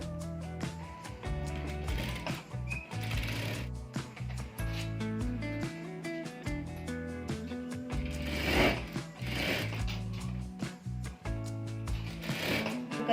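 Sewing machine stitching a folded sleeve strip for a one-piece umbrella dress, a continuous rapid mechanical whir with ratcheting clatter, slowing and restarting in a few bursts, with no talking over it.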